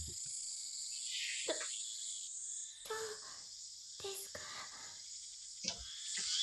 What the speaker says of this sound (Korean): 매미 울음소리가 들려올 뿐